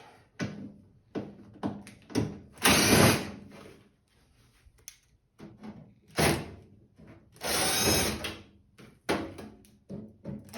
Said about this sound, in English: So we're removing these screws.